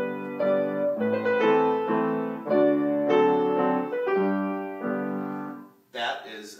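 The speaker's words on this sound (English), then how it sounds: "if we're doing a waltz, which is in a moderate 3/4, a good slow intro would sound something like this" Slow piano waltz introduction in moderate 3/4 time, four bars of lilting chords rising and falling near the listener, ending with a short burst of speech.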